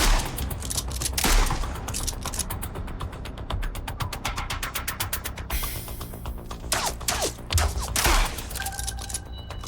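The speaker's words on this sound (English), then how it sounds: "Trying out the new shotgun?" Gunfire from a shotgun in the video game MindsEye: loud, rapid, evenly spaced shots with mechanical clatter that continue for several seconds, followed by a few scattered louder bangs.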